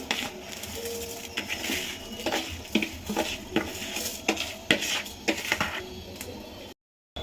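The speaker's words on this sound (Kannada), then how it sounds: "ಅಕ್ಕಿ ಹಾಕ್ಬಿಟ್ಟು ತಿರ್ಸ್ ತಿರ್ಸ್ಕೊಳ್ಳಿ" Washed rice for fenugreek pulao is stirred in a pot, with a soft hiss of sizzling under repeated scraping clinks of a metal spoon against the pot before a brief dropout.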